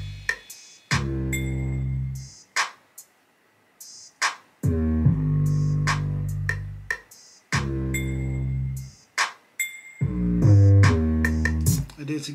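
Hip-hop beat with hard drum hits, bell and crash accents over deep sustained 808 bass notes, loud and repeating in bars separated by brief gaps.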